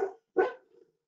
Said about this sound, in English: Apologize for Lacey barking there.